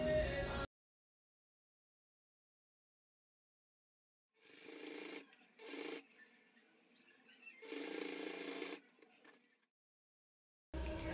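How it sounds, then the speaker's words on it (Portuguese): A sewing machine with a presser foot stitches a plastic pouch: two short bursts then a longer steady whirring run, close and moderately loud, separated by brief pauses and silence. "E a gente vai passar na máquina aí com um pé de máquina, tá?"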